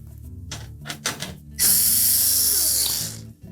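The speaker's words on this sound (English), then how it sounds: "We'll simply remove the screws that secure the access panel in place." Screws being removed from the back access panel of a GE range, a few quick ratcheting clicks followed by a loud, steady whir of a power driver backing out a quarter-inch hex head screw, close by with no talk.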